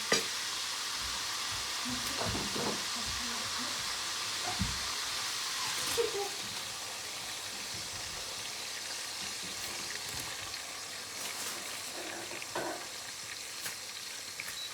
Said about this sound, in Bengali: এই পেঁয়াজটাকে আপনি একটু সময় নিয়ে ভালো করে কষাতে হবে